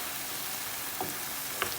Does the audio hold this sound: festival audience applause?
no